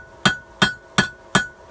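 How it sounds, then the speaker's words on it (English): Rounded face of a hammer planishing a metal blank for a pizza cutter: five evenly spaced, sharp ringing metallic strikes, close and loud, each decaying quickly before the next. "Using the rounding side of the hammer, we'll planish it a touch."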